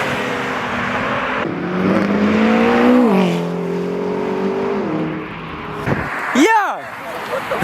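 A Dodge Hellcat revs hard while pulling away from a car meet, its engine note climbing and dropping in loud surges with a sharp final rev burst, as excited voices shout nearby.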